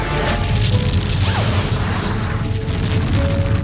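A deep, sustained rumbling boom roars loudly and continuously, like a massive explosion with a heavy low-end blast that doesn't let up.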